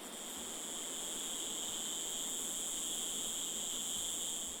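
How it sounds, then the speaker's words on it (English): Cicadas in Madagascar's eastern mountain jungle, a dense, continuous high-pitched buzzing drone that stays loud and even throughout, with no voices. "In the eastern mountains, the jungle echoes to the song of the cicadas."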